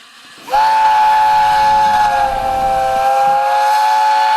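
Steam locomotive whistle in the Factorio video game, a loud, sustained squeaky tonal blast that starts abruptly and holds steady over a soft hiss, with no talking.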